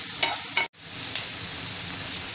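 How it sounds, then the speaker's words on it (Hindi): Onions sauté and brown in a pan, a continuous hissing sizzle broken by a couple of stirring scrapes and one brief dropout. "अब प्याज अच्छी तरह ब्राउन होना चाहिए, तब तक हम इसे सोटे करके लेते हैं।"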